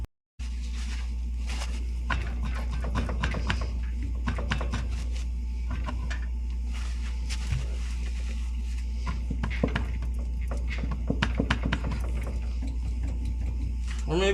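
Hand tools click and ratchet steadily while work goes on to pull the axle from a CJ5 Jeep, close and busy over a constant low hum, with occasional speech.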